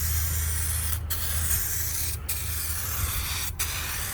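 Continuous hiss of clear coat sprayed from an aerosol rattle can onto a panel of a 1985 C4 Corvette, steady and close, broken by three brief pauses between passes, with no voices.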